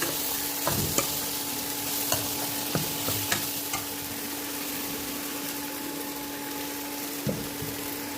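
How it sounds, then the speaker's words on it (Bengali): Mixed vegetables stir-frying in a pan for Darjeeling-style thukpa, a constant near sizzle broken by occasional clinks and scrapes of a spatula, no voices. "এবার সব সবজি অনেকক্ষণ ধরে আমি ভাজবো ভালো করে"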